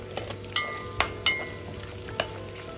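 Meat frying in oil for pilaf, a steady close sizzle marked by several sharp spits and pops spread irregularly through the clip.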